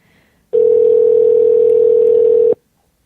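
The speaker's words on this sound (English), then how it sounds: "We'll see where John is when he answers the phone" Outgoing telephone call ringing: one steady, loud electronic ring tone lasting about two seconds between short stretches of quiet.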